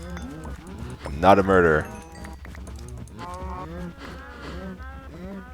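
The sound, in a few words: cows mooing in Minecraft video game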